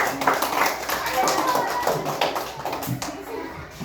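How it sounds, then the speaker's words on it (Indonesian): A class of children claps for a winning group in a classroom quiz, a busy, close patter of hands mixed with chatter and young voices throughout. "Tepuk tangan."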